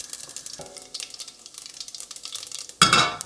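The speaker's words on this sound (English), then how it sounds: "Next, I'm going to add a teaspoon of cumin seeds." Cumin seeds hit hot sunflower, rapeseed or olive oil in a pan and are stirred, giving light crackling sizzle and a few utensil scrapes, ending in a sudden louder burst of frying.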